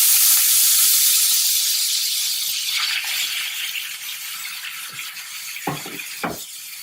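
Chicken pieces searing in a hot pan: a loud hiss that slowly fades into a steady sizzle, with a few soft knocks and taps of food or utensil against the pan near the end.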